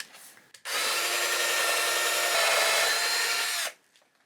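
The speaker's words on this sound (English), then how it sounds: "Now I'm going to go in here with the step drill and cut down into 1/4"" A power drill with a step bit whines steadily for about three seconds as it bites through material, starting abruptly and stopping cleanly, with quiet handling noise before and after.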